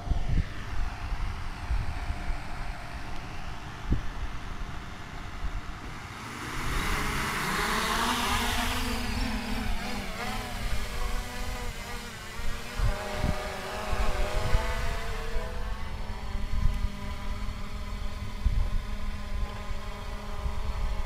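A steady droning whine from a Hubsan X4 H501S quadcopter drone flying in GPS mode holds throughout, swelling louder midway as if passing closer, with no voices present.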